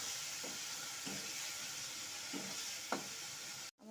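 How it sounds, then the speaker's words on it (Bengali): Bengali spice paste for fish-head muri ghonto sautés with a little water in a pan. A faint steady sizzle carries a few soft, evenly spaced stirring scrapes, then cuts off abruptly near the end, with no speech. "অল্প অল্প জল দিয়ে মশলাটাকে কষাবো"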